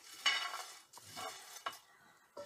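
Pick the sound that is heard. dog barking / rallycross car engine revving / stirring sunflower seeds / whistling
stirring sunflower seeds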